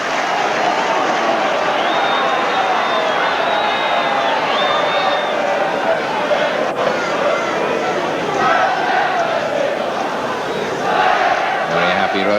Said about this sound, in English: Very happy Rovers crowd, all going their way at the moment.